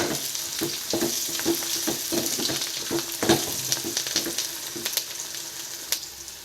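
Onions fry in a pan for tomato kadayal, sizzling steadily under repeated close spatula scrapes and stirs, with no talking.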